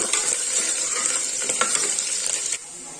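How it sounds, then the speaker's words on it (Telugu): Chopped onions fry in oil in a pan while being stirred, giving a loud, continuous sizzle with spatula scrapes. The sound is close and steady, then drops in level near the end, with no talk. "ఆనియన్స్ వేసుకుని ఒకసారి బాగా కలుపుకోవాలి"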